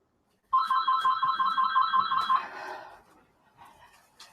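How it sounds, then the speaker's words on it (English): A telephone rings in steady trilling bursts for about two seconds, loud and close, then trails off into quieter room sound with a brief faint chirp near the end. "Let me see if I need to pick up this phone."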